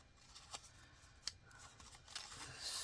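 Scissors cut into a sheet of paper with a few faint, sparse snips and some rustling, all close by and quiet.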